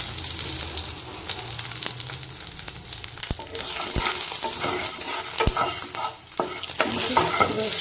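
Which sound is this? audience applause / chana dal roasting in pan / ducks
chana dal roasting in pan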